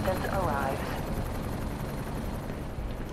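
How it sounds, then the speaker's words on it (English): A helicopter in the video game Black Mesa, a dense rotor drone with a rising whine at the start, then a steady rumble under a game voice. "Fucking helicopters."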